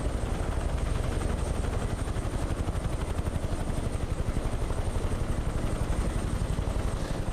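UH-1H Huey helicopters in Microsoft Flight Simulator, a steady, fast rotor thump over a loud engine roar, continuous and close with no pause.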